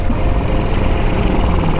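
Madass motorcycle engine bogging in second gear, a rough, steady buzzing drone with a sputtering low end, close and loud, lasting under two seconds.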